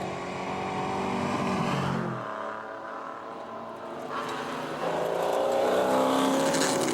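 A Healey rally car racing on a Targa Newfoundland stage, engine roaring loudly nearby, dropping briefly as it shifts, then surging again under hard acceleration, with no voices.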